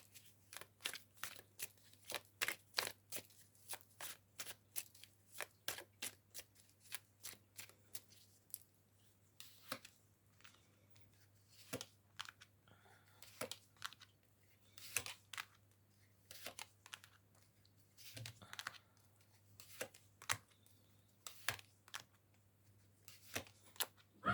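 Playing cards are shuffled over and over in quick, crisp bursts of riffling, close and quiet, with short pauses between rounds.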